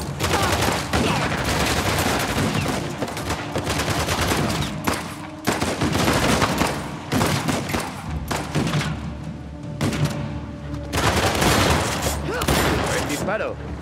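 Loud bursts of rapid gunfire and machine-gun fusillades in Uncharted: The Lost Legacy, repeated in several volleys, close and harsh, with someone talking between shots.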